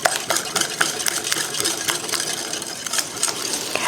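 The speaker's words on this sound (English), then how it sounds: "So I'm going to whisk this together." A whisk beats gluten-free carrot, pecan and coconut muffin batter in a bowl, quick rhythmic scraping strokes repeating close up with light clinks against the bowl's side.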